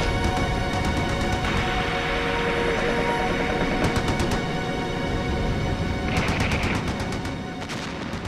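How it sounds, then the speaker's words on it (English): Machine gun fire rakes a canal bank in a First World War battle. It sounds as dense, continuous rattling bursts with sharper cracks layered on top, loud and sustained throughout. "The English then blasted the banks with machine gun fire."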